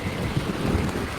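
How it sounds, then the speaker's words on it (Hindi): Heavy rain in a night thunderstorm, a dense continuous downpour with low rumbling and gusty wind beneath, brief and unbroken. "बिजली कड़की और उसके साथ ही झमाझम बारिश शुरू हो गई।"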